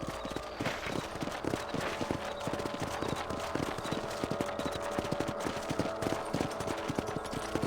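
Horse hooves clip-clopping in the Red Dead Redemption western game on a ranch, a steady rapid rhythm of close, distinct hoof strikes under a continuous bed of background game ambience, with no talk.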